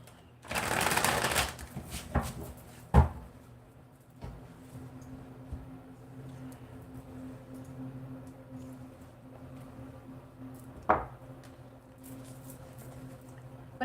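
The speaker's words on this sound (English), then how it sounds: "More shuffle for this." Playing cards for a psychic reading are shuffled at close range with a soft riffling rush, followed by a few sharp taps and quieter handling sounds against a faint hum.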